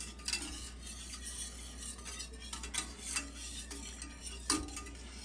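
A mixture is stirred steadily by hand in a pan, making continuous soft scraping and occasional utensil clinks against the metal at a quiet, even level.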